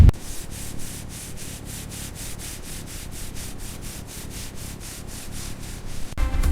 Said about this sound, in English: Fine sanding removes every last imperfection, creating a surface so smooth the paint will flow like glass.